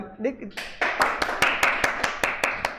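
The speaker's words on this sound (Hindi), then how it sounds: "ताली बजाओ, ताली बजाओ भैया" Classroom students clap in a quick, steady rhythm of about a dozen sharp claps after a brief spoken prompt, loud and close.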